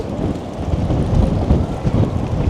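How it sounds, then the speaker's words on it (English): Wind gusts rumble across the microphone on Queen Street West in Toronto, a steady low, blustery roar swelling and easing over a couple of seconds, with no voices. "as that wind kicks up here."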